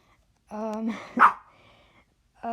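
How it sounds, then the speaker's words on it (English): A dog gives a couple of sharp barks, one louder yelp standing out, with a person talking just before and after. "What are you barking at?"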